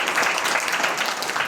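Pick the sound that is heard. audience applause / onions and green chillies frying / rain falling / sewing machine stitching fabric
audience applause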